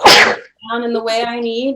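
One sharp, loud sneeze bursts out close by at the start. After a short pause a person starts talking.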